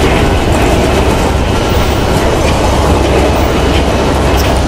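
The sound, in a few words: Amtrak train number 91 arriving into Orlando station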